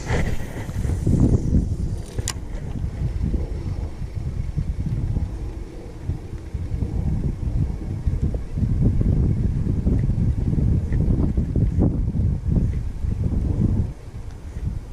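Wind buffets the microphone in heavy, uneven gusts while fishing from a boat, a loud rumbling roar that rises and falls throughout with a faint engine-like hum beneath.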